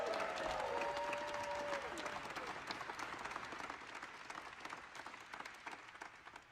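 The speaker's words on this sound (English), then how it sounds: "Another round of applause." Steady audience applause fills a news conference after the first human flight crew of Blue Origin's New Shepard, dense clapping from a crowd that slowly thins toward the end, with a faint tone and brief voices underneath.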